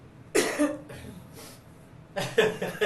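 Two separate human coughs, each a short burst of one or two harsh hacks, with a quiet pause between them, during a conversation.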